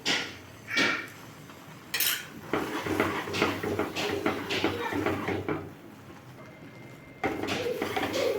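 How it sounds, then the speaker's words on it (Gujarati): A spoon stirs milk into flour in a pan while mohanthal is being made, giving irregular metallic scrapes and clinks against the pan at close range, with quieter pauses between strokes. "એક એક ચમચી દૂધ એડ કરતા જઈશું અને મિક્સ કરીશું"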